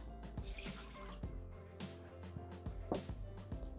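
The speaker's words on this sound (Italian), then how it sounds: "Mettere nel boccale l'acqua" Water pours into a Thermomix (Bimby TM6) mixing bowl while couscous is being prepared, a steady splashing rush with a few brief louder gushes, close and moderately quiet, with no talking.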